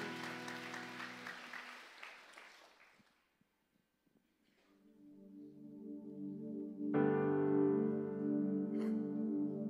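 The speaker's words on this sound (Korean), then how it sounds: "그리고 주님께 감사의 박수 올리시다." Church congregation applauding during a Sunday morning worship service, a dense burst of clapping that fades out over a few seconds before music with sustained tones enters and swells.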